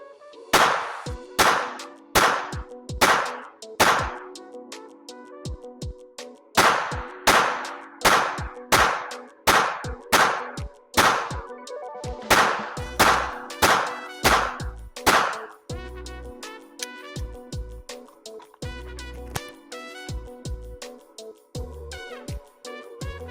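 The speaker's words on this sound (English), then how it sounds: "So we're going to go from 3 meters, put some rounds down range, and go from there." Gunshots fired at a shooting range target from 3 meters, loud sharp reports in rapid strings, with short pauses between bursts and ringing metallic echoes after each shot.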